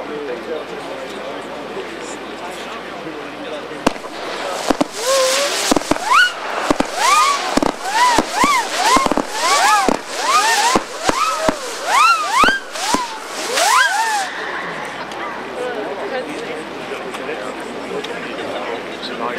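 A 30-shot firework battery launching a rapid series of whistling, crackling shots, each followed by a pop, in a dense burst lasting several seconds.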